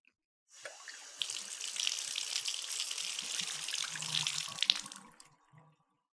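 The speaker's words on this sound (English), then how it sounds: "Julia, cold water, please." Cold water runs from a tap into a sink, a steady close rush that swells for several seconds before tapering off, with no talking.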